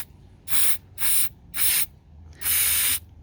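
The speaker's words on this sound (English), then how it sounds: "What I'm going to do now is just give it a few sprays." Four short bursts of aerosol cleaner hissing close by onto a MAF sensor from a Ford Ranger, the last one longer, with brief silences between them.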